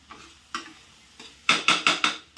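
Spoon scraping crushed peanuts around a pan during home cooking, a few soft strokes followed by four sharper, louder scrapes in quick succession, close and without talk.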